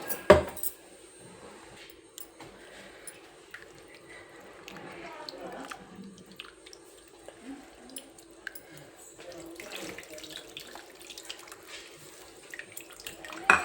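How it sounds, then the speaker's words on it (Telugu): Water splashes and trickles into a mixer jar, with light clinks of kitchenware and soft handling noises throughout. "ఇప్పుడు మిక్సీ జార్లోనే నీళ్ళు వేసుకొని"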